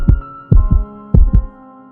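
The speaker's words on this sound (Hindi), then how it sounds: "बस दिल की धड़कन इतनी तेज हो गई कि जैसे अभी बाहर निकल आएगी।" Racing heartbeat sound effect in a Hindi horror story: paired lub-dub thumps, low and loud, repeating in three quick beats across two seconds with no voice.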